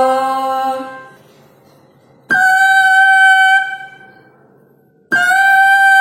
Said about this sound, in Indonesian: itulah dia contoh dari suara sopran.